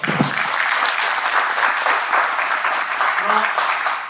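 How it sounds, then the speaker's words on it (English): An audience at a cyber-safety panel event applauds in a loud, steady wash of clapping that fills the room, with a brief voice near the start. "Big round of applause."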